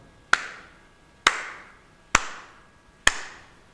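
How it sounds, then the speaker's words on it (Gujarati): Four single hand claps ring out sharply, close and evenly spaced about a second apart, each with a short room echo trailing off. "ચાલો તાળી પાડું છું"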